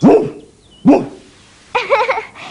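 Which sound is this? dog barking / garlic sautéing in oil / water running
dog barking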